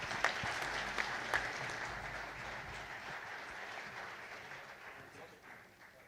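An audience applauds after a dance performance at a fundraiser fashion show, a dense, moderately loud patter of clapping that tapers off toward the end.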